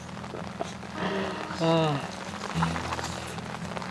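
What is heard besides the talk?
rain falling at a campsite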